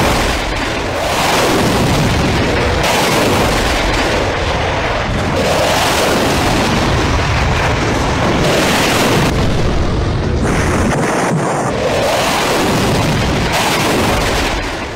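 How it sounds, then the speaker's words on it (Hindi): Rafale jet missile fire rings out with heavy booms and explosions, loud bursts rolling one after another across a continuous roar. "कुछ इस तरह रफाल ने मिसाइल फायर की"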